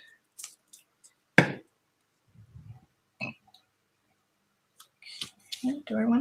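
Scissors snip through scrap paper strips for a junk-journal collage background, giving a few sharp, close cuts spread out among quiet pauses, with some soft handling noise and talking near the end.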